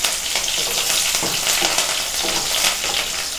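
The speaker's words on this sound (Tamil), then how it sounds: "கருவேப்பிலையும் போட்டு நல்லா பொரிய விடுங்க" Curry leaves spluttering and crackling in hot oil in a pan, a loud, dense, continuous sizzle with sharp pops throughout and no talking.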